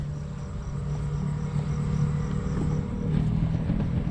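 Bees buzz around violet flowers outdoors, making a steady, continuous drone that holds at an even level throughout with no talking.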